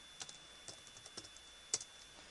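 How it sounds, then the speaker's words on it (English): Faint computer keyboard taps as a command is typed into a command prompt, roughly ten light, spaced clicks with one slightly louder keystroke near the end, no speech. "Second thing you do is type in netview."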